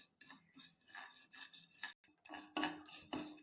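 Ingredients being roasted and stirred in an iron pan give quiet, intermittent metallic scrapes and clinks of a utensil against the pan, in uneven strokes with short pauses.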